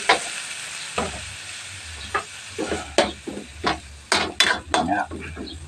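Okra, squash and string beans stir-fry in a pan with sizzling oil, punctuated by repeated sharp scrapes and clinks of a utensil stirring against the metal, close and moderately loud.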